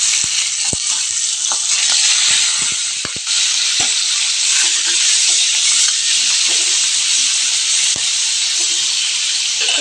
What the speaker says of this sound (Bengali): এবার দিয়ে দেব কাঁচা চিংড়ি মাছগুলো গরম তেলের ওপর।